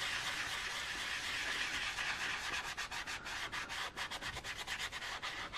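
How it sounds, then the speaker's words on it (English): Leather dye being rubbed by hand onto a thrifted home decor piece for a second coat, a steady close scrubbing friction that breaks into quicker repeated strokes toward the end, with no talking. "I'm just gonna hit the whole thing with a second coat of the leather dye"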